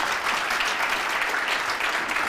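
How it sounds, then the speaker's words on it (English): Dense, steady applause from a conference audience for a panel at a national social enterprise conference, a continuous wash of many hands clapping with no talk over it. "A round of applause for Majella, for John, and for Amal"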